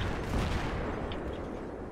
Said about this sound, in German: das schlägt hier mal wieder ein, die scheiß Arti-Schüsse